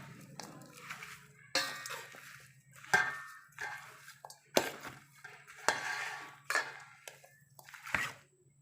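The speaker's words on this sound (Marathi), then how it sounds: "आणि सर्व साहित्य एकदम चांगल्या प्रकारे मिक्स करून घेऊ" Raw mango pieces with garlic, mustard seeds, fenugreek, asafoetida and oil are mixed for a dry pickle, giving about eight separate scraping, clattering bursts of stirring against a faint steady hum.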